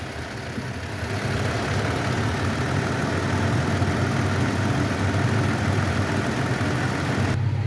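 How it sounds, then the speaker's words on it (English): A 2018 Toyota Tacoma engine idles steadily, a close, even, low rumbling hum that continues without change and with no voices. "with the motor running"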